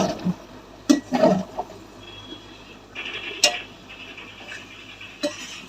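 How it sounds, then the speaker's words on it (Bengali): A spoon stirs kasuri methi into aloo dum in a pan, making a few close clinks and scrapes against the metal with a quiet sizzle between them. "বেশ অনেকটা পরিমাণে আমি কসুরি মেথি দিয়ে দিয়েছি। এবারে নাড়বো।"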